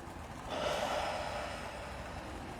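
A slow, deep breath out during a guided breathing exercise, a long airy exhale heard close and alone that rises and then tapers off over about two seconds.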